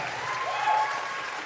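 Audience applause at a talent show, a brief, dense burst of clapping from a crowd, steady and fairly loud throughout.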